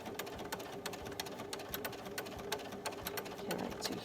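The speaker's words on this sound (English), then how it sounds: "I'll be stitching over that other stitching in the ditch that I had done previously around the middle white circle" A sewing machine with a walking foot stitching through a churn dash quilt, running in a steady, close rhythmic chatter of rapid needle strokes throughout, with no voices.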